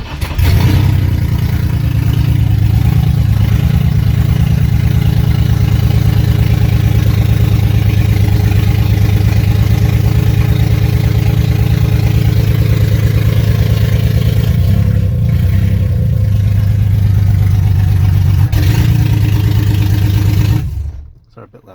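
A BMW E30 fitted with an S54 engine idles loudly and steadily with a deep, even drone close by, the note dipping briefly twice before it cuts off at the end.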